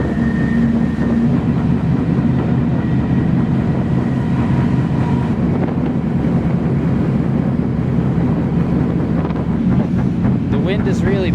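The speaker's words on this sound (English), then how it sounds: "The wind is really blowing in the back of this gondola" Steady, loud wind roars against the microphone in the back of an open gondola car on a moving freight train, over rumble and rattle, constant throughout with no pauses.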